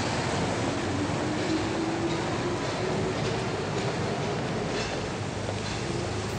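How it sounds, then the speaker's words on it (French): A Paris metro train in the 1967 film Le Samouraï rumbles steadily, with a faint rising whine of wheels or motor over a continuous broadband roar, moderately loud and unbroken. "Je déteste le bruit du métro."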